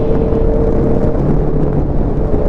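A big bike motorcycle being ridden, its engine giving a loud, steady low roar mixed with wind rush against the microphone, with no talking.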